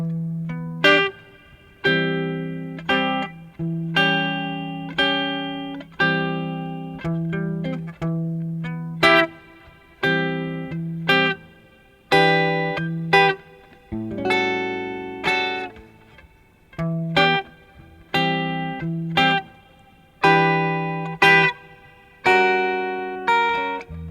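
Slow electric guitar chord progression from the chorus of a song, jazz-blues voicings like minor sevenths and altered sevenths, each chord strummed and left ringing with effects and light reverb, a steady, unhurried rhythm with no talking.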